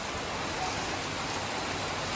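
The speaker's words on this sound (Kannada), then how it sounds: "ಇಲ್ಲಂತೂ ಇವತ್ತು ಫುಲ್ ಮಳೆ ಆಗದ." Heavy rain pours down in a steady, dense hiss, loud and unbroken across the short stretch, with no talk over it.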